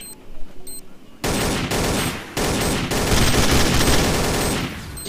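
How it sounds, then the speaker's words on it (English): Bursts of loud automatic gunfire from Counter-Strike: Source on the Dust 2 map, several long sustained volleys separated by short gaps, close and harsh, with no talking. "how can you shoot me through the smoke?"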